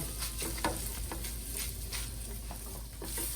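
Onions sizzle steadily in a pan for taco pasta, a soft, even crackle with light patter and occasional stirring, fairly quiet.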